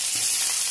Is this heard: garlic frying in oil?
yes